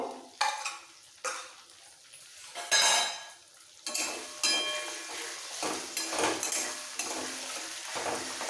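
A wooden or metal spoon stirs and scrapes a pan of sizzling Bata fish curry as ground coriander leaf paste is sautéed in, with repeated clanks against the pan over a steady frying hiss, close and fairly loud.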